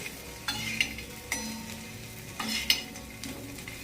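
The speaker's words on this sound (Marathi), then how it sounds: "आता यांना तर आपल्याला अर्धा मिनटं यांना असं फ्राय करून घ्यायचं" Eggs sizzle and fry in a pan for a Maharashtrian egg masala made with free-range village eggs. A steady crackle runs throughout, with several sharp stirring or turning scrapes standing out.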